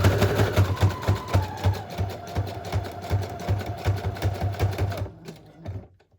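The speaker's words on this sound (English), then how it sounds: "I'm going to at least sew down so that I'm sewing over the ribbon closure" A sewing machine stitches over lace and a ribbon closure on a journal cover, running in a fast, even mechanical rhythm for about five seconds before stopping.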